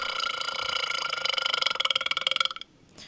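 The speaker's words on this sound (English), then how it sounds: "That was a long belch that I was holding in while speaking to your other officer." A long, drawn-out belch heard over a phone line, a loud pulsing croak that rattles steadily for about two and a half seconds before cutting off abruptly, with no talking.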